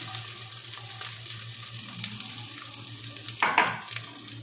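Chopped onions frying in a pan for a crab roast, a steady faint sizzle with a low hum beneath and a brief louder burst of scraping or stirring near the end.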